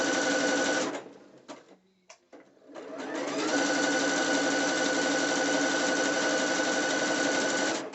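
A sewing machine stitches a curved seam on a two-piece dance outfit, running steadily and loudly, pausing briefly near the start, then resuming in one long continuous burst.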